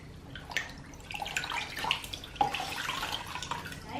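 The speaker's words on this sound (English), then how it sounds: "We've wet the green cloth just using cold water" Cold water runs from a tap to wet a green microfibre cloth, a faint, uneven splashing and trickling that rises and dips in short bursts, heard close by.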